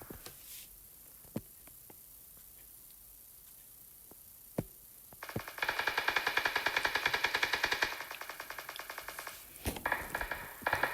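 Bursts of PUBG gunfire crackle in a duo scrim match as a player comes under fire, with a few isolated shots early on followed by sustained rapid volleys and later sharp single reports.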